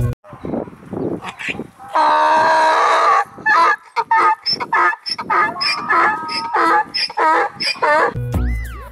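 A donkey brays loudly in a long, choppy series of rasping hee-haw honks and wheezes, close up and alone.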